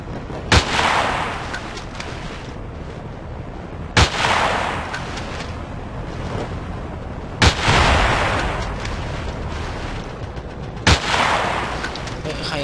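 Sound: gunfire in the video game Battlefield 2

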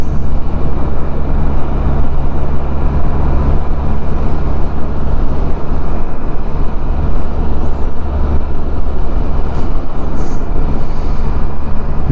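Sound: Can-Am Spyder three-wheel motorcycle riding on road

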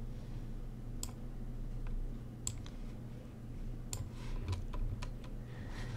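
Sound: computer mouse clicking

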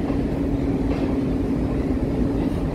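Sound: long train next to the platform at Siliguri station

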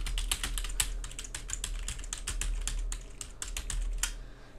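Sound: typing on a computer keyboard connected to a KVM switch

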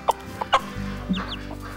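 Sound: mother hen clucking to her chick

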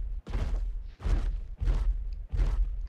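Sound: T. rex footsteps in PUBG Mobile video game

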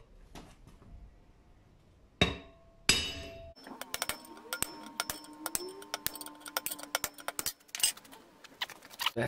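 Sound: hammering with four-pound hammer

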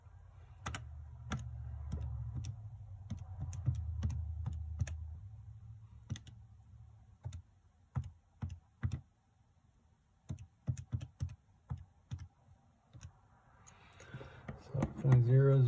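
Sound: typing on a computer keyboard

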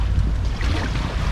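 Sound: wind noise

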